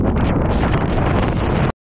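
Strong wind buffets the microphone of a road cyclist climbing a mountain trail, a loud continuous roaring gust that cuts off abruptly.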